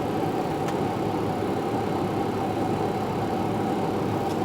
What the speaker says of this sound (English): Okay, and we're turning the left engine now.